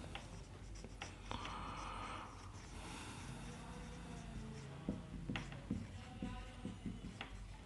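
Pen or marker writing during a math lecture on permutations, heard as steady, faint scratching strokes with a few taps, running under quiet background noise.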